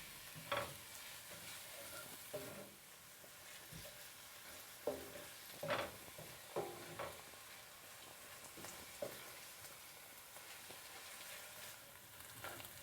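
Onions fry in a pan for Ethiopian asa wet fish stew, giving a soft, steady sizzle broken by several sharper stirring scrapes and clinks, heard close and alone.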